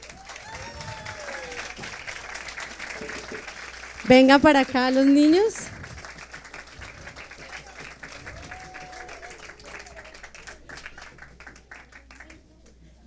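A church audience applauds children who acted in a play, scattered, moderately loud clapping with people talking over it and a brief loud vocal cry in the middle.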